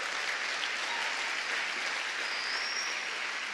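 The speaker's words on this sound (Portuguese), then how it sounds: "Você pode aplaudir o Senhor por essa palavra?" A congregation at Lagoinha Niterói church applauds in a continuous wash of many hands clapping, steady and fairly distant, with no voices standing out.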